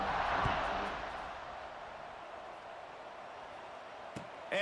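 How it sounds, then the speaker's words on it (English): A stadium crowd buzzes after a score in a college football video game, Duke vs Oklahoma: a steady, moderately loud roar that swells at the start, then settles into a continuous murmur. "this crowd is buzzing after that last score"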